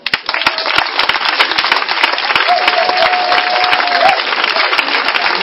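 A church congregation applauds together in acclaim of the Lord, a dense, loud, sustained clapping that fills the room evenly from start to finish, with a faint tone briefly running beneath it.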